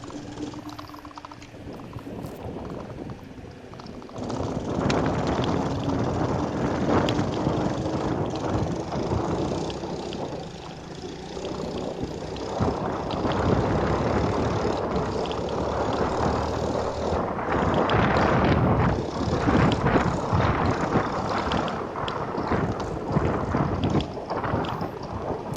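A 1980s BMX bicycle with a 49cc friction-drive engine runs on a test ride, its steady motor drone heavily masked by loud, continuous wind rush.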